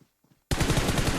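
Shotgun fire in a battle royale video game: after a brief near-silence, a loud, close burst of rapid gunshots starts abruptly and continues to the end.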